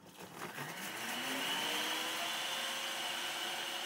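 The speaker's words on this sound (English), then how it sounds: "So let's blend it together." An electric blender whirs steadily while blending ogbono soup ingredients with water, spinning up quickly and then holding a constant high-pitched mechanical drone, fairly faint.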